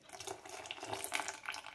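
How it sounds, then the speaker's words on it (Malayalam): Water poured into a bowl of blended jowar (white sorghum) dosa batter, a steady splashing trickle close by that runs for a couple of seconds without talk. "ഇതിലേക്ക് കുറച്ച് വെള്ളം ഒഴിക്കുന്നുണ്ട്"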